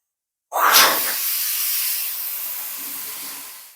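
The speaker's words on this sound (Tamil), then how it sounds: "இப்போ நல்லா மூணு ஓட்டையில் ஆவி வந்துருச்சுங்க" Steam rushes from the three holes of a puttu steamer cooking a rava and jackfruit puttu, a sudden loud hiss that starts abruptly and then holds steady, slowly fading, with no voices.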